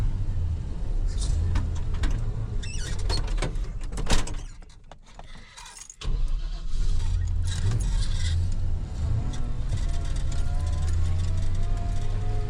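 An old Jeep engine runs at a steady, rough idle with a continuous low rumble close by, briefly dropping off and then picking back up midway, with light rattling on top.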